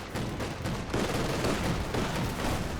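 LMG machine gun fire from German Grenadiers in a Company of Heroes 2 battle, a steady rapid rattle of bursts filling the short stretch at moderate loudness.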